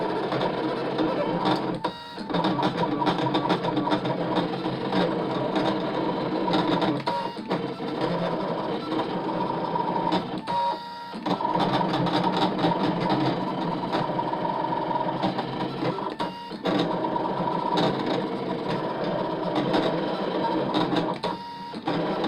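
Brother ScanNCut cutting machine running a fussy-cut job, continuous mechanical whirring and buzzing with brief pauses every few seconds, close and steady with no talking.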